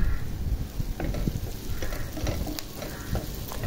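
Egg frying in oil in a pan for a breakfast snack, a continuous close, crackling sizzle with sputtering pops scattered throughout and no voices.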